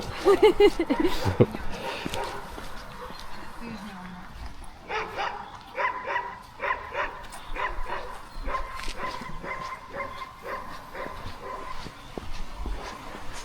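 Several dogs bark and yip in short bursts outdoors, mixed with people's voices talking nearby throughout.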